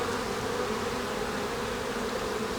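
Honeybees buzz steadily around hive frames during an early-season hive split, a dense, continuous close-up drone with no talk over it.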